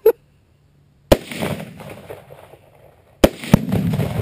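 Tannerite targets exploding when shot outdoors: a sharp crack, then several loud booming blasts with rumbling tails, the bangs separated by a second or two.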